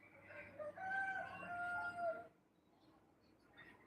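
A rooster crows once in a loud, drawn-out cock-a-doodle-doo lasting about two seconds, followed by quieter background sounds from the surroundings.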